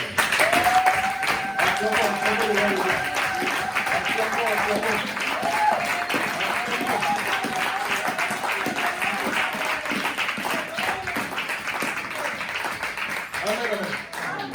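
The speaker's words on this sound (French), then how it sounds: "On acclame encore les gens." A church congregation applauding, a steady dense wash of clapping that continues throughout while a pastor speaks over it.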